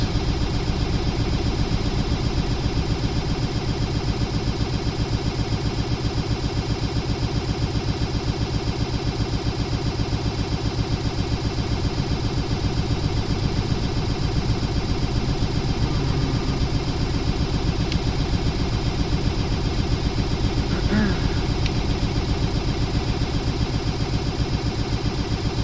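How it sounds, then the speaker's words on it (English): A loud in-game vehicle engine in Stormworks: Build And Rescue runs steadily with a droning mid-range hum, moving very slowly without a proper gearbox, continuous for the whole stretch with no talk. "The engine sure is being loud."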